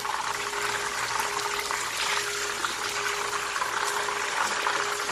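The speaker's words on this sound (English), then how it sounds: "I'm just going to let the fish keep staying like that until it's completely fried" Parrot fish fries in hot oil over a high flame, giving a steady, dense bubbling sizzle that stays close and even throughout, with a faint low hum underneath and no speech.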